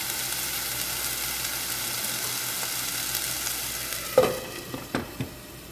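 Capsicum frying in a pan for Indian-style masala pasta gives a steady, close sizzle, with a few sharp stirring scrapes near the end and no talking.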